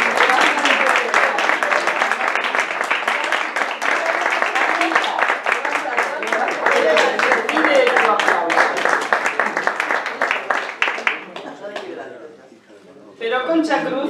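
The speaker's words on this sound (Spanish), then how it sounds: "Un fuerte aplauso para ella." An audience at a poetry event applauds with a long, loud burst of dense clapping that thins and briefly drops away before picking up again.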